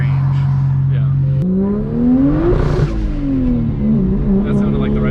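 A BMW 335i engine revs hard against the rev limiter, its loud steady drone climbing and bouncing in pitch with a stuttering cut near the top, close by and continuous throughout.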